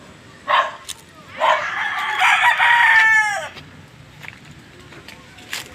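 A rooster crows loudly and close at a chicken farm with breeding pens and an egg incubator, one long drawn-out call with other fowl clucking in short bursts before and after.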